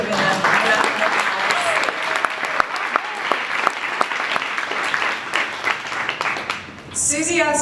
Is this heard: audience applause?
yes